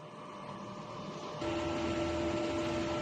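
A DTF printer runs a print head cleaning cycle, a steady mechanical whir that steps up louder partway through and adds a sustained motor tone, with no talking.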